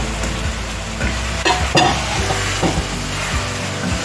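Fried hake fish tossed into a spicy pepper sauce in a pan, a steady close sizzle with scraping stirs and a couple of sharper clatters as the pieces go in.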